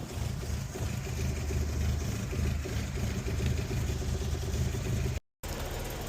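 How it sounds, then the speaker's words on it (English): A Ford Bantam pickup's engine runs steadily and loudly close by as the truck is turned round, a continuous low drone that cuts out for a moment near the end before resuming. "Vinny here is just going to spin this Bantam round for me"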